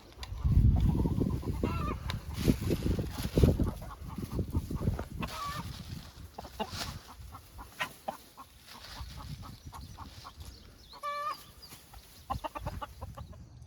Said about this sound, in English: Just got the chicken coops moved